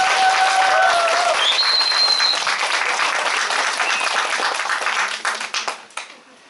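A church congregation claps together in a full, steady round of applause that holds for several seconds before breaking into scattered final claps and ending.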